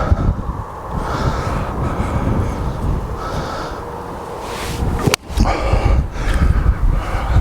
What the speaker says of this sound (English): The wind is everywhere, gusting everywhere.